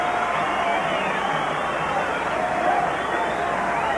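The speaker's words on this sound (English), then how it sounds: "You have an idea the crowd will be just about split here, but they're pretty fired up for the challenger's arrival." A large boxing arena crowd cheers and buzzes as heavyweight Larry Holmes enters the ring for a title fight, a steady loud roar of many voices that stays constant throughout.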